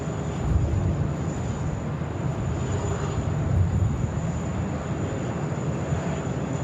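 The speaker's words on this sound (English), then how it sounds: "Japan 52, runway 16 right, clear for takeoff" A jet airliner, a Qantas A321XLR, roars steadily on its takeoff run from runway 16 right at Sydney Airport, with heavy broadband engine noise and wind rumble close by and no talking.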